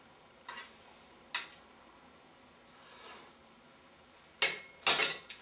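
A spoon clinking against a bowl of spicy shrimp: a few sparse light taps early on, a soft scrape midway, then two louder, bright clanks near the end, close and alone with no talking.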